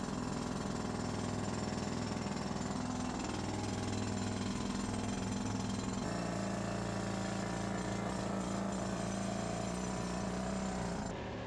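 A pneumatic rock drill with button bits, run by an air compressor and fed with water, hammers into rock in a gold mine, making a loud, continuous rattling drone that barely changes for the whole stretch.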